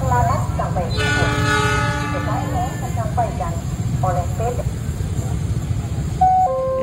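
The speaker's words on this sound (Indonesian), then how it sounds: "Ini dia keretanya, kereta api Pangrangonya melintas." A Pangrango passenger train passes a railway level crossing, its horn sounding in long sustained tones over a steady rumble of wheels on the rails, with a crossing announcement voice and a final horn toot.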